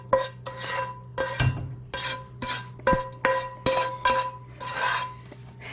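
Ground beef is spread out in a very large cooking pot, with repeated scraping and rubbing strokes from a utensil and occasional metallic clanks against the pot, close and rhythmic, with no talking.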